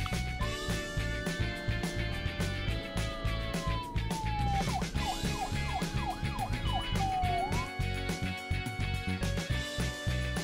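A police siren wails and yelps over a steady rhythmic background, sweeping up and down before breaking into rapid repeated yelps, fairly near and clear.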